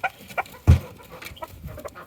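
Backyard chickens cluck in short, scattered calls close by, with a louder burst near the middle of a brief stretch.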